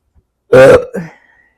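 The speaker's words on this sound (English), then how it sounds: "Confirmation burp there." A single loud, close burp lasting about half a second, followed by a shorter throaty sound.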